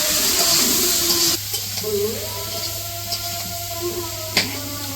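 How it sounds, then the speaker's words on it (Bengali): Fish seasoned with salt and turmeric frying in a pan in a village kitchen, giving a steady close sizzle with occasional stirring scrapes. A low hum runs beneath. "ভাইজা নিব।"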